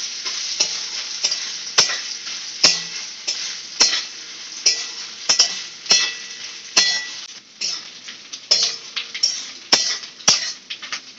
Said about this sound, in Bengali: এবার নারকেলটা দিয়ে একটু লাল হয়ে ভেজে নেব।